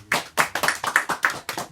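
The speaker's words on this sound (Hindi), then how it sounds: "जोरदार ताली हो जाए इनके लिए" Applause from a small audience at a natural farming awareness gathering: a short run of steady, fairly loud hand claps in an even rhythm, about six distinct beats, with no voices.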